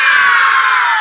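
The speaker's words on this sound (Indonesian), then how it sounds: "Pak Belta, kalian teriak semangat" A group of people at a school coaching session shout a loud, brief "semangat" cheer together, bright and crowded with no separate talk.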